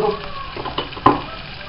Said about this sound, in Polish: podsmażam sobie szpinak